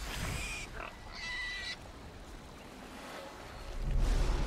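Pigs grunting in the fantasy role-playing game Divinity: Original Sin II, a few close oinks and grunts in short bursts over a low game ambience, with a heavier grunt near the end.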